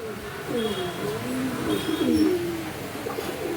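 Pigeons coo in low, rolling phrases, several overlapping calls close by against steady background noise.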